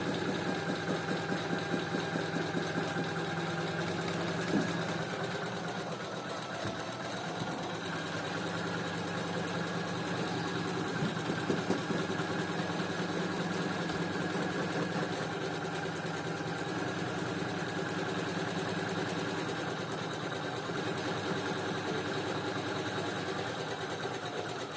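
A Janome ELNA 500e computerized sewing machine runs steadily on its own, a continuous fast mechanical whir with rapid needle stitching at an even rhythm, no talking.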